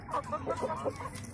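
Chickens cluck softly in short, faint bursts while they eat fish scattered on the ground, with quiet background noise.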